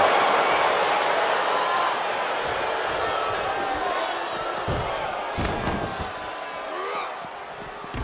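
Slams and thuds in a WWE 2K22 wrestling game, a power slam driving an opponent down, land as several sharp hits around the middle, over a steady roaring arena crowd that fills the whole stretch.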